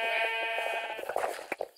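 A sheep bleats in a Minecraft Sheep Quest minigame, one drawn-out, wavering bleat followed by brief clicky game noises, close and clear with no talk.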